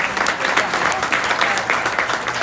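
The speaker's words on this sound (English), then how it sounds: "Let's give all three of these kiddos a round of applause." A crowd at a county fair beef show applauds three kids in a heifer class, a full, steady round of clapping that carries evenly through the short moment in the show arena.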